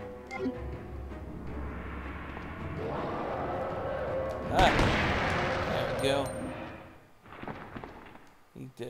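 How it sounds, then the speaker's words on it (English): Machine gun fire in the video game Resident Evil 2, a dense stretch of rapid automatic bursts with a heavier blast midway, mixed with game effects while a voice talks over it. "Machine gun. Yep."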